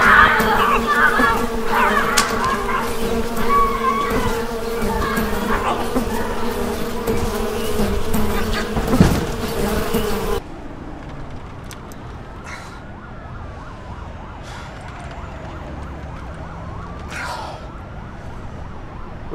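A dense, steady buzz of many bees, loud at first, then thinner and quieter, with a few short higher tones cutting through.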